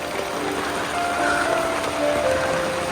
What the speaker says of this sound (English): It's raining on my curtain.